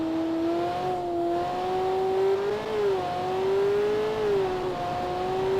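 Car engine in BeamNG racing game drones steadily at high speed, pitch rising and dipping slightly through gear and throttle changes, loud and continuous with no talk.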